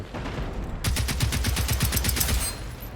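An AG4 rifle fires in Generation Zero: a brisk automatic burst of about a dozen evenly spaced, loud, punchy shots rattles out after a moment of ambient hum, then the firing stops and the background lingers.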